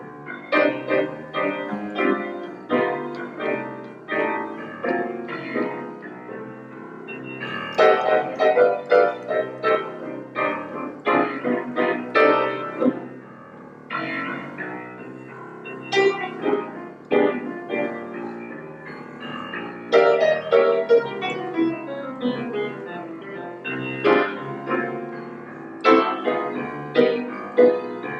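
Solo jazz piano chords strike in a syncopated pattern over a steady walking bass line, busy and continuous, with no voices.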